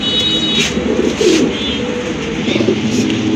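Pigeons coo in a loft of good-quality pigeons for sale, low soft murmuring calls repeating through the clip over a steady background hum, with no talking.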